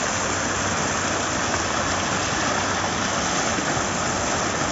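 Steady, full-bodied roar of the Cachoeira do Urubu waterfall in Primavera, Pernambuco, a constant broadband rush of falling water heard close and loud throughout, with no talking.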